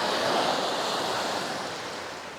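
Surf washes and rushes continuously onto the shore at Palm Beach, Zakynthos, Greece, a broad steady roar of breaking waves up close, with faint wind noise and no talking.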